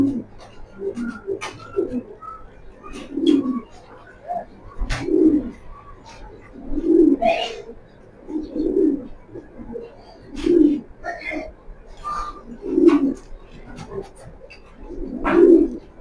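Racing pigeons from club running pairs coo in repeated low, throaty phrases about every two seconds, close by, with faint chirps and light background noise between calls.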